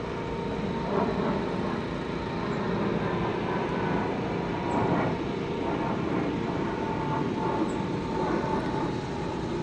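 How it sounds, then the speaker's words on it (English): Airplane passing over Prospect Park, a steady broadband roar that stays fairly constant throughout, heard from below in an open city park with no talking. "Another plane!"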